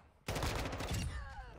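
Rapid automatic gunfire from the online multiplayer game Call of Duty: Modern Warfare II (2022) erupts abruptly and loudly, a sustained burst of close shots over a second and a half.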